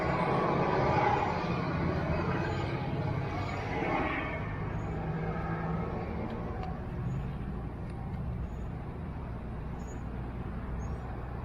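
A jet ski trailer tire is filled with air, giving a steady, fairly quiet hiss of rushing air over a low mechanical hum that holds without a break.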